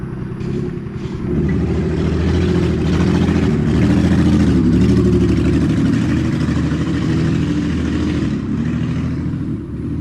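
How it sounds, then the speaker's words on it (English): A loud straight-pipe car exhaust rumbles deeply and harshly on a Dallas street, swelling in the middle as the car passes, then easing slightly. "He's not going fast, he just has a loud car."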